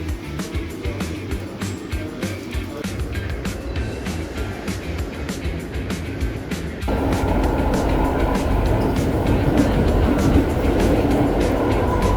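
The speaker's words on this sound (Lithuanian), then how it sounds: "Dabar atvažiavom su metro." Continuous rumbling of a metro train in motion in Brussels with rhythmic rattles, then a louder steady hum and whine as it speeds along.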